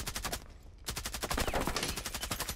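Rapid automatic gunfire in a first-person shooter game, a fast regular stream of loud close shots with a brief break before firing resumes.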